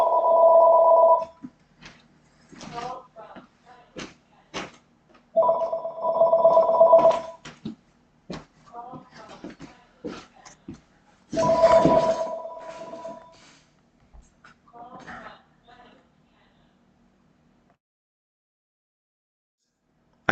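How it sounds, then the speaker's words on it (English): A telephone rings in repeated bursts of bell-like tones in a quiet room, with brief pauses between rings and a few faint knocks and rustles in between. "Well, there's a phone ringing."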